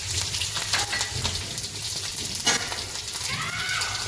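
Chillies sizzling in hot oil with mustard seeds and asafoetida, tempering for khandvi: a dense, steady crackling hiss close by, with a few louder spits and pops, no talking.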